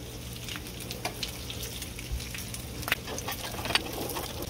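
Bacon frying in oil in a pan on a medium burner alongside onions and peppers, a steady close sizzle with scattered sharp pops and crackles spitting through.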